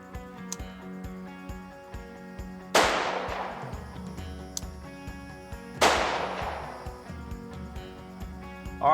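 A Bond Arms compact gun firing .410 shells: two sharp, loud shots a few seconds apart, each ringing out into a short decay, with a faint background hum and small clicks between them.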